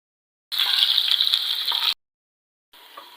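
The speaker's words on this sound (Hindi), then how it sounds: "प्याज को जो हमने बिल्कुल हल्का सा फ्राई करना है" Onions sizzle in hot oil in a home kitchen pan, a steady loud frying hiss lasting over a second, then a pause before the sizzling resumes more softly. No voices.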